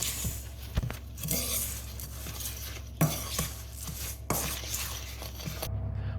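White sugar, brown sugar, salt and oat flakes being stirred together in a bowl for a raspberry crumble, with soft gritty scraping and several sharper clinks of the utensil against the bowl, close and fairly quiet.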